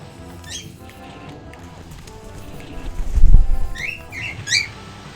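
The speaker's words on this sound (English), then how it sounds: "I now have a bird on my head" A pet bird chirps with short bright squeaks near the start and again near the end, alongside soft scuffling and a low thump, while a game plays quietly in the background.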